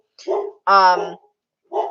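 A pet dog barks in a few short, loud, close yips and barks with pauses between them, indoors during a casual live chat.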